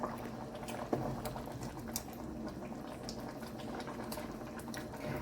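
Spicy crab curry with coconut milk boils in a pot, a dense, close, steady simmer of small bubbles and pops, with no talking.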